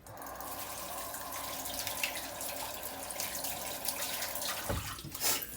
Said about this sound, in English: I'm just going to go over and wash my lettuce.